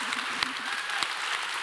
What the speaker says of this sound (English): Give another round of applause to Brian and Jen.